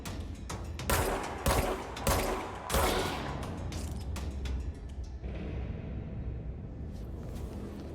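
Weapon fire in the video game Control: several sharp, loud shots crack in quick succession early on, followed by a rumbling, mechanical background that gradually settles.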